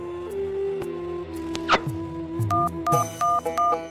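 A telephone number is dialed, a run of distinct keypad tones beeping one after another in an uneven rhythm, with a short swishing sound just before them, no speech.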